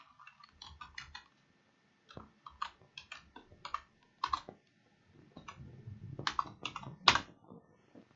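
Typing on a computer keyboard while working in MS Word, with irregular bursts of clicky keystrokes separated by short pauses, close and fairly quiet, with no voice.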